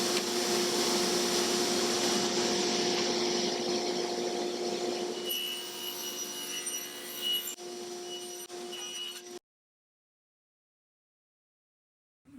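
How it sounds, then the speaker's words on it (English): A workshop vacuum running to collect sawdust while cutting barn wood pieces: a steady whining drone with a constant tonal hum, close and loud, shifting pitch slightly midway before cutting off to silence. "I got a vacuum back there."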